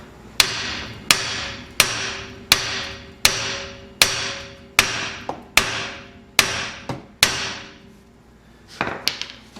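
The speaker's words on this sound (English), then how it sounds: "Then we'll take our hammer And we basically just got to loosen the knuckle from the ball joints now." Loud, sharp hammer blows strike a Jeep TJ steering knuckle to loosen it from the ball joints at a steady, even pace, about a dozen in a row, each ringing briefly before the next.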